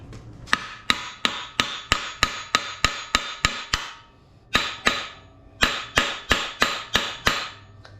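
Hammer strikes on a junkyard 5.3 LS engine being swapped into a 1953 Chevy 3100, ringing metallic blows in a steady rhythm of about two per second, close and loud, in three bursts separated by short pauses.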